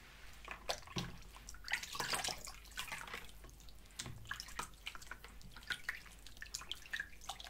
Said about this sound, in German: Ich spüle das mal eben ab, ne? Ich habe gesehen, du hast hier einen Eimer Wasser stehen.